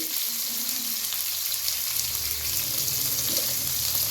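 Green chillies fry in hot oil for vermicelli upma, giving a loud, continuous close-up sizzle that holds steady throughout with no talking.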